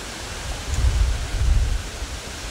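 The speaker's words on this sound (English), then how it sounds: "it's so windy." Strong wind gusting at an Ohio state park campground just before a thunderstorm, a loud low rumbling roar that swells in two heavy gusts with no speech over it.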